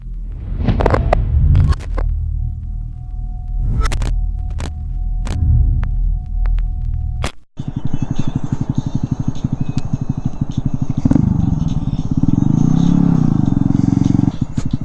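A Honda Grom motorcycle with an AR aftermarket exhaust idles with a throaty, uneven burble and a few sharp revs, then settles into a loud, steady rumbling engine note close by.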